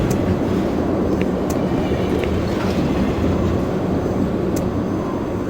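A train in Doom 3 pulls away from a station with a loud, steady rumbling roar of rolling wheels and machinery. Faint knocks sit over the dense low drone, and no one speaks.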